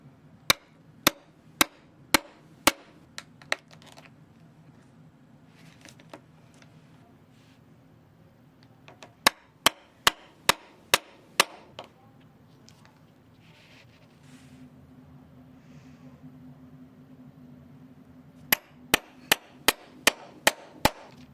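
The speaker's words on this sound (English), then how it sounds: "I punched new holes for the original hardware, leaving the strap ready for installation." Sharp, evenly spaced hammer strikes punch holes through a leather motorcycle grab strap, coming in three quick bursts of several hits each, with quiet pauses and faint low background noise between them.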